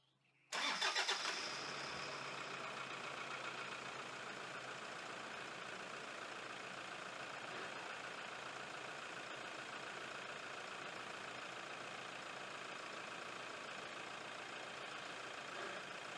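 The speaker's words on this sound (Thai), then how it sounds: "เดี๋ยวผมจะไปสตาร์ทรถให้ดูนะครับ" A Toyota Vigo pickup engine cranks and fires with a short loud burst, then settles into a steady, even idle that runs on unchanged, heard alone.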